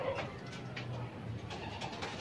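Pigeons coo outside their loft at night, low repeated soft coos over a steady background hum, fairly close and continuous.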